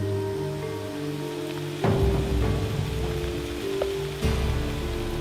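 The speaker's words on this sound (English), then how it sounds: "You might be able to hear absolutely chucking it down." Steady rain drums on a surface close by, a constant dense patter with a low hum underneath and occasional louder thuds.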